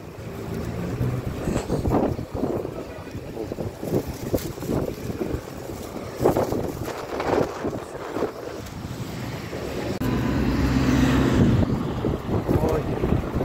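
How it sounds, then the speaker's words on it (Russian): Strong wind sweeping through a Baku street near a market, loud buffeting gusts that swell toward the end, with a person talking and walking under the roar. "Ой, какой ветер."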